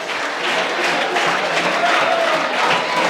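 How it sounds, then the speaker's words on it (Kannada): Loud, sustained applause from a crowd welcoming a guest to a special program, dense clapping filling the whole stretch without pause. "ಜೋರಾದ ಚಪ್ಪಾಳೆಯೊಂದಿಗೆ ಸ್ವಾಗತವನ್ನು ಮಾಡಿಕೊಳ್ಳೋಣ"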